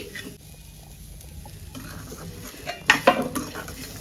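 Special masala for gutti vankaya curry stirred in a pan, quiet scraping and soft sizzling that turns into a few louder clattering strokes near the end, no voices.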